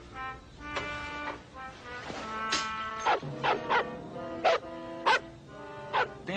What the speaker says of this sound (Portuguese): Tem alguma coisa incomodando aquele cão.